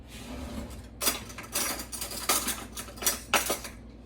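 Metal utensil scraping and clinking against a pan while flour is stirred into browned pork belly and its rendered fat, a series of irregular clattering strokes at moderate loudness, no talking.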